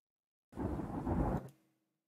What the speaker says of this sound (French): attention, il y a de l'orage.